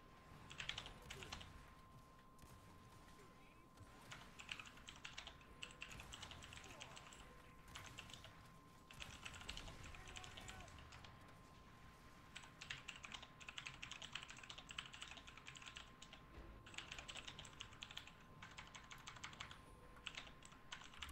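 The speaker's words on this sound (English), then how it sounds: "Oh yeah, he's typing." Someone types in bursts on a computer keyboard during a Gears 5 session, with rapid key clatter starting and stopping over a steady tone and faint background noise.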